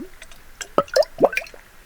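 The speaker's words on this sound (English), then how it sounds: "I need to take a drink of water." Someone takes a drink of water from a glass, giving a few close, wet slurps and gulps spaced unevenly over two seconds, with no talk.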